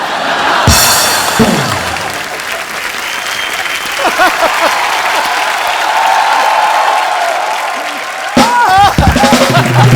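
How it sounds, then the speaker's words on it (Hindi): A studio audience on a Hindi comedy talk show bursts into loud, sustained applause, with voices and musical stings cutting in over the clapping. "ठोको ताली"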